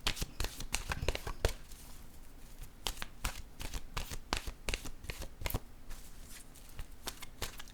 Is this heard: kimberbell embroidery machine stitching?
no